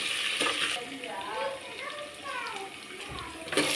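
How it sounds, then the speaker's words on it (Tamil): Onions sauté in a pan with curry leaves and rock salt, making a hissing, watery sizzle under a person speaking, with a few sharper clatters near the end. "வெங்காயம் நல்லா வதங்கட்டும்."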